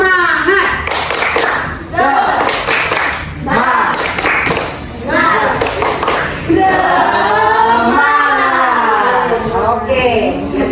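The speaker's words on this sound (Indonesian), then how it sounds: "Tepuk semangat." A classroom group performs a rhythmic spirit clap, sharp patterned hand claps and taps mixed with voices chanting along in bursts, loud and close throughout.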